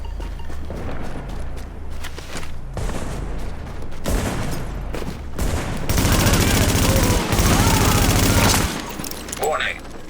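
Bursts of gunfire in the shooter game The Division, sporadic shots early, then a loud sustained barrage of rapid automatic fire in the middle, with a synthetic voice announcing warnings over the fight.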